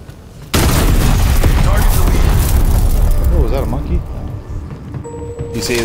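Loud, dense bursts of explosions and gunfire from a Call of Duty Cold War zombies match, with a continuous roar of blasts and debris and some electronic tones and chirps near the end.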